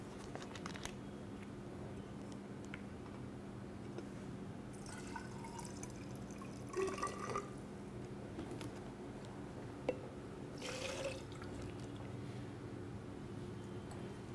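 Water is poured into a homemade hand sanitizer mixture containing hydrogen peroxide, heard as faint, brief splashing and trickling bursts against a quiet room hum.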